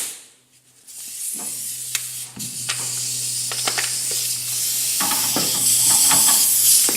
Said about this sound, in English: Just grab our air gun and run that down.